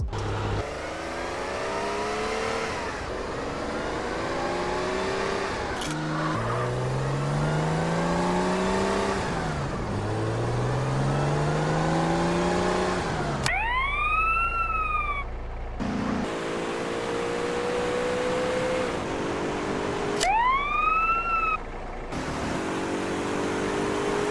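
Car engines revving and accelerating in the GTA San Andreas remaster mod, interrupted by rising and falling police siren wails, loud and continuous in a sequence of cut-together game sound comparisons.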